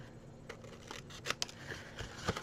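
Scissors snipping paper for a Christmas tea-light gift bag, a few soft irregular cuts and rustles up close in a quiet room.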